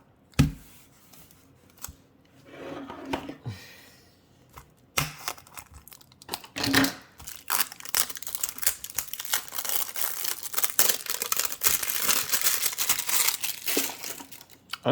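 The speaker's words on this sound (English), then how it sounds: "unwrapping stuff is so satisfying" New puzzle cubes being unwrapped from their plastic packaging: bursts of crisp crinkling and tearing, quiet at first, then a dense, continuous rustle of plastic close to the mic.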